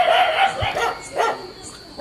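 A dog barks and yips in a few short, fairly close bursts, with some voices in the background.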